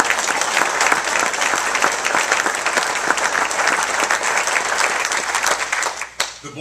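An audience at a Jackson Day 2013 gathering claps loudly and continuously, a thick wash of many hands that holds strong before thinning out in the last moment.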